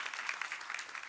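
A church congregation applauds together in a brief, dense burst of many hands clapping at once, steady and moderately loud throughout.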